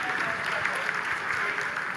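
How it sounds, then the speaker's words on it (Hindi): Sustained applause fills the Chandrayaan 3 mission control room during the lander's vertical descent phase, a steady dense clapping from many people with a voice talking over it. "Lot of applause indicates that till now the performance has been nominal."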